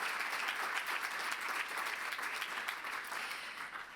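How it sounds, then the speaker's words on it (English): Applause for the panelists at the launch of the UNESCO TVET strategy, a soft, steady wash of crowd clapping heard from some distance, fading slightly at the end. "I'd ask for a round of applause for our panelists."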